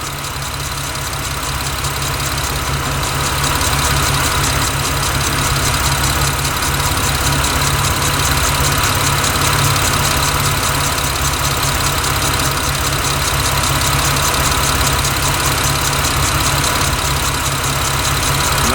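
A car engine idles steadily up close, a loud continuous mechanical drone with a faint knocking tick running through it, with no talk.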